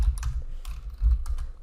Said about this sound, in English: Let's type in self-discipline.